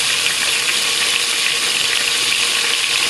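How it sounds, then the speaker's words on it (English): Smoked sausage sizzles and fries in butter in a cooking pot, a steady, loud, close crackling hiss with no pauses. "Gonna add that into the butter."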